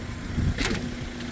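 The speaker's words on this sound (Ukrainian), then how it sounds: "Чітко працює двигун." A 2019 Renault Master L4H4 twin-rear-wheel van idles with a steady, low, even engine hum, moderately loud and close, with a brief faint click partway through and no talking.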